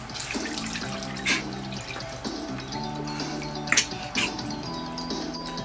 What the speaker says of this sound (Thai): พรมน้ำให้ทั่วใบหน้าเพื่อน